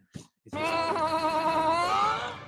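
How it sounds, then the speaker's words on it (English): Sheep bleating up close, a short sound followed by one long, wavering, harmonic bleat that holds steady for about two seconds. "And now I'm hearing sheep."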